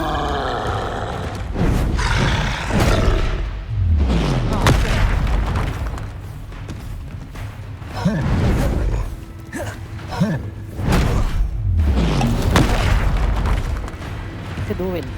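Confringo explosive spells blast again and again in Hogwarts Legacy combat, heavy booming impacts following one another amid battle noise, with voices calling out over the fight.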